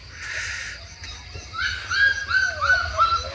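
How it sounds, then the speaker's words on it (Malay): Thin, high-pitched yelps and whimpers from young puppies, several overlapping calls close by over a low background hum. "Berbunyi-bunyi anak anjing mekak."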